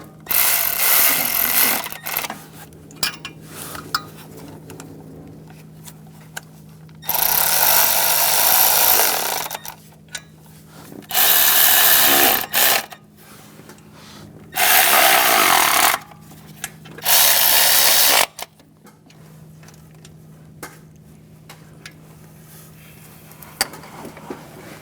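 A hand ratchet snugging down exhaust manifold bolts on a 2013-2018 Hyundai Santa Fe, several bursts of fast clicking from close up, separated by quieter pauses with small metallic handling noises.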